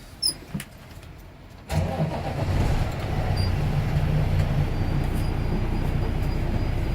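A truck engine cranks and catches after a quiet start, then settles into a steady low rumbling idle close by, with a couple of faint clicks beforehand and no talking.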